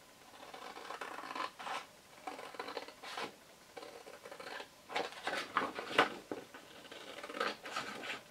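Scissors cut a paper template from an A4 sheet for an Easter basket craft, giving soft, close snips and crisp rustling in irregular bursts, faint and quiet with no talking.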